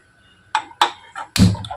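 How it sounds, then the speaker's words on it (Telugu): A pressure cooker lid is put on and closed, a series of four short metallic clunks and knocks, the last one the heaviest, with no one speaking. "కుక్కర్ మూత పెట్టేస్తాను."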